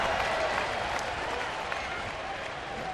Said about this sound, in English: And a big Bronx cheer goes up